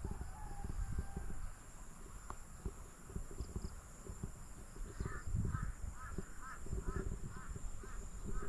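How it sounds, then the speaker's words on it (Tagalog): Crows caw in a rhythmic series of harsh calls over an onion field, at moderate distance, against a constant outdoor background hum. "dami pa rin uwak oh"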